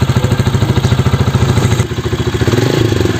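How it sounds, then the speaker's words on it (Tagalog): Close up, a Rusi Classic 250i motorcycle engine runs at a steady idle with a loud, even, throbbing pulse, dipping briefly before settling back into the same rhythm. "napakagandang motor mo na yan, ang ganda ng tunog"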